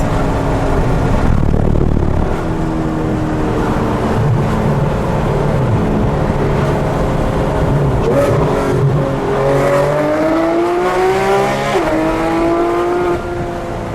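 A loud 2016 Porsche GT3 RS engine revs high to about 8,000 rpm and climbs through quick gear shifts, pitch rising and dropping repeatedly, close and continuous.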